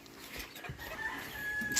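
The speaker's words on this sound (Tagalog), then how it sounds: "Yung manok niya, malalaki na po mga kabayan" Chickens cluck close by at a Filipino household yard while a rooster crows, short faint fowl calls scattered over low background noise with no talking.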